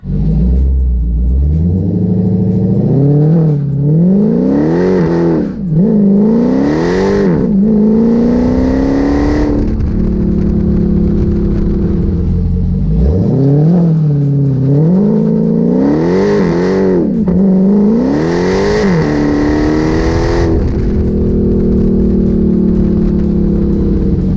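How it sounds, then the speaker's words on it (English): A Dodge Challenger Hellcat Redeye, a 1000 hp build, out on the road roars through repeated hard accelerations, its engine climbing in pitch through gear after gear and dropping between pulls, loud and close throughout with no talking. "I did take it out for a spin earlier on just to show you the differential in action before we install the brace"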